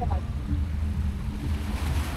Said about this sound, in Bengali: Speed boat.